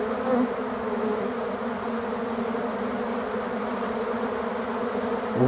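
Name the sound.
black honey bees licking honey extraction equipment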